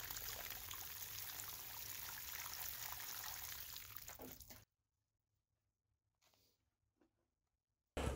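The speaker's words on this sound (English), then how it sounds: "Let's water those newly dug holes before planting" Water poured into freshly dug planting holes in a tomato garden, a steady gushing pour for about four and a half seconds that stops abruptly, followed by near silence with a couple of faint drips.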